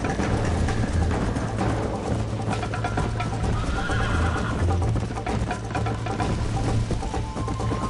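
A horse in Red Dead Redemption whinnies over steady hoofbeats and a dense, continuous game soundscape, loud throughout with no voices.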